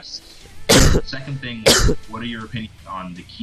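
Two sharp, loud sneezes burst out about a second apart, mixed in with someone talking into a microphone during a Combat Arms livestream.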